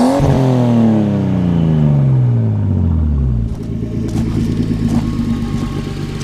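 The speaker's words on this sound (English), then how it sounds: "I love the exhaust note on this thing. Do it again." Loud exhaust note of a 1969 Triumph TR6 running a Nissan Skyline turbo inline-six, a revving roar that winds down over several seconds and settles into a rumbling idle with a faint clatter, close and without voices.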